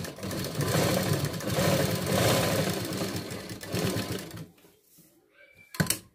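A sewing machine stitches tucks through blouse fabric lined with a lining layer, running loud and continuous for several seconds before stopping, followed by a few faint handling clicks and a brief clatter.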